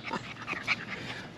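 English Setter puppy, a young bird dog, panting and snuffling close by in quick uneven breaths with a few faint whimpery squeaks, no talk over it.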